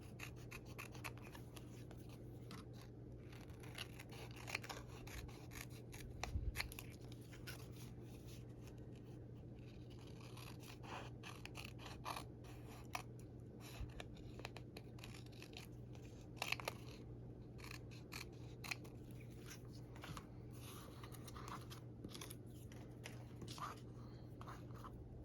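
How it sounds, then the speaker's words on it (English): Scissors trim excess paper from a junk journal page, giving faint, intermittent soft snips and papery rubbing over a quiet background hum for the whole stretch. "Now I can trim off the excess."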